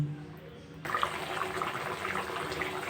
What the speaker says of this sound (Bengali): ছোট বাটির আরও এক বাটি মোট তিন বাটি হলো জল দিয়ে দিলাম